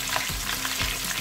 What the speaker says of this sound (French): Voilà, l'huile est chaude. Je peux mettre mon poisson dedans.